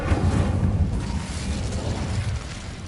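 A fiery spell burst in a wizarding action game, giving a loud, sustained roaring whoosh with booming low rumble that holds steady for a few seconds.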